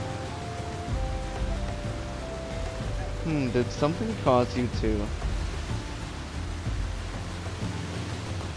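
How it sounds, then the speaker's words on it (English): Steady rain hiss in Final Fantasy XIV fills the background as a continuous even wash, with a voice speaking over it in the middle. "It probably doesn't help that it's raining."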